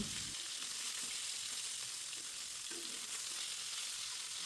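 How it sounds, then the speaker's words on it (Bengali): Rohu fish pieces sizzle loudly and steadily in hot oil as they are turned over, a dense, even hiss that runs throughout with no voices. "এই মাছগুলো এক পাশ ভাজা হয়ে গেছে, তাই অন্য পাশটা উল্টে দিচ্ছি।"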